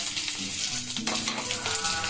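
Onions frying in a pan for a dal makhani-style dish with vegetables, a steady close sizzle with faint tonal hum underneath, no talk.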